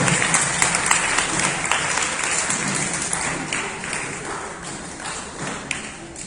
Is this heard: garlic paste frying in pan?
no